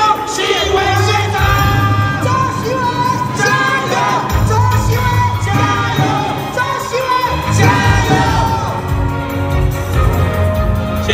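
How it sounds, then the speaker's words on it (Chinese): A large crowd at an outdoor political rally in New Taipei cheers, whoops and claps loudly and continuously, with swelling waves of noise and music-like tones underneath. "来伸手欢迎，热情掌声鼓励欢迎周锡玮县长"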